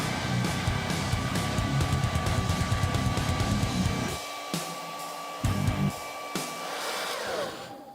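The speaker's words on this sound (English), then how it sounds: "let's go ahead and hit the trusty white hair dryer, see if we can get all of this stuff heated up properly" A hair dryer blows steadily at close range with a constant whine, then cuts off and restarts in short bursts toward the end.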